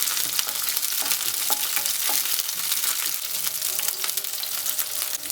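Green chillies and curry leaves sauté in a pan for Kerala-style carrot thoran. A continuous close sizzle and crackle of frying is dotted with light stirring scrapes, with no voice over it.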